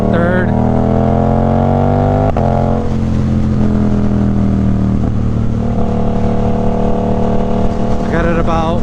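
Suzuki GSX-8R motorcycle fitted with a Toce exhaust, revving up through second and third gear toward about 5,000 RPM, loud rising engine pitch with shifts and a deep exhaust note throughout.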